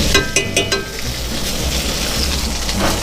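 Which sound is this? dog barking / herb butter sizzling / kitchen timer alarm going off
herb butter sizzling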